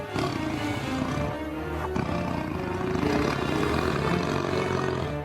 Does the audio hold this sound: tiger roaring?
yes